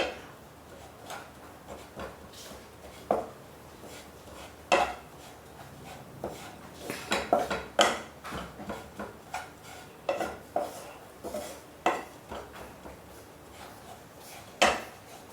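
Besan masala roasting in a pan for a ridge gourd (turai) curry, heard as a spoon scraping and clinking against the metal in irregular strokes, fairly close, with no talking.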